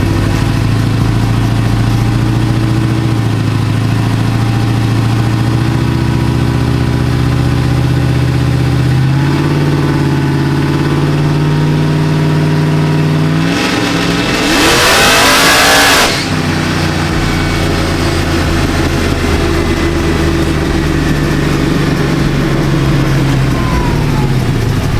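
Supercharged Chevrolet Silverado with an LSA engine roars loudly and close, holding a heavy rumbling idle, surging through a sharp rev in the middle, then dropping back to a throbbing burble.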